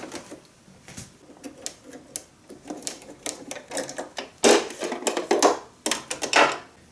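A Brother sewing machine fitted with a free motion quilting foot stitches in short, uneven bursts of clattering needle strikes, fairly faint and close, with no talking.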